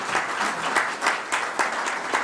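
An audience at a veterans recognition breakfast applauds, a steady patter of many hands clapping together with faint periodic swells and no talking over it.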